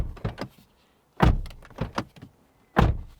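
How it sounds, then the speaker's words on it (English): Car doors on a 2023 Toyota GR Corolla are slammed several times, giving sharp, close thuds in quick pairs with brief silences between them. "Door slam test. Yeah, it sounds okay."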